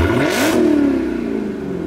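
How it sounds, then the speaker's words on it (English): A Ford Mustang GT engine gives a single sharp rev, its pitch sweeping up and then falling back to idle, loud and close, alone without talk. "give us a rev real quick"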